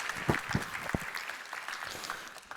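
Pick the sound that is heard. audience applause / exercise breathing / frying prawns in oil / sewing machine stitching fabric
audience applause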